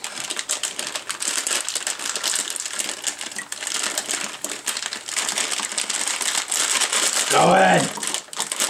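A plastic bag of gummy bears crinkles and rustles steadily near the microphone while gummies go into a pot of Mountain Dew stew, with a brief voice and a louder clattering moment near the end.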